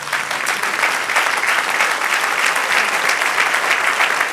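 A church congregation claps together in steady, energetic applause, a dense, even roar of many hands that stays loud from start to finish with no voices on top.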